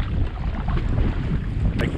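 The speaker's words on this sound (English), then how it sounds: "These waves are getting a lot bigger." Strong wind roars and buffets the microphone around a kayak on rough water, with a dense, steady rush of wind and waves and no talking.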